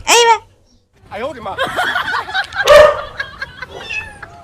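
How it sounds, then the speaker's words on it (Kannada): A kitten gives a short, high, wavering meow at the start, followed by close voices talking and laughing in a comedy skit. "ಬೆಕ್ಕಿನ ಮರಿ ಬಿಡದಿಲ್ಲ ತಂದು ಕೊಟ್ಟಿ ನೋಡು"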